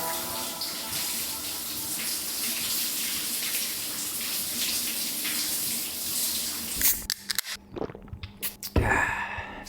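Water from a shower pours in a steady, dense hiss for several seconds, then cuts off, leaving a few brief knocks and rustles near the end with no talk.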